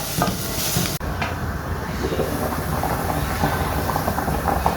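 Tomatoes sautéed in a dry pan without oil for pork ribs sinigang, with steady close sizzling and stirring scrapes running throughout and a brief break near the start.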